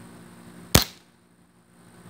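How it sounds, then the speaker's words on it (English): A Crosman 1377 pellet pistol pumped three times fires a single sharp, close pop that decays quickly into quiet, with no talk. "First shot at 3 pumps."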